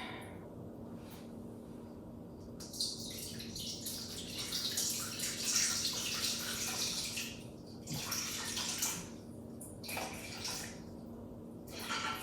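Water poured into a container on a kitchen scale while preparing baguette poolish, an irregular splashing pour in bursts with brief pauses, fairly faint and close.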